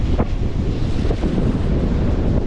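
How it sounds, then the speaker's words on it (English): Strong wind buffets the microphone in a steady, rough roar aboard a ferry crossing from Ibiza to Formentera, with the wash of open water blended underneath. "windy."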